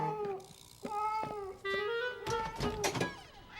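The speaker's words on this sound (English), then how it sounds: "Silly cat." A cartoon cat lets out a string of drawn-out, wavering meows, several separate cries rising and falling, close and clear against a quiet background.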